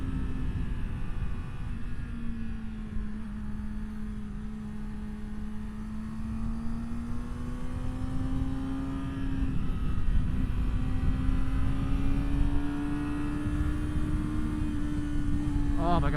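A Yamaha R6 motorcycle engine holds a steady, loud drone on a canyon ride. Its pitch sags slightly, then rises as the rider gets on the throttle, with wind rush around it.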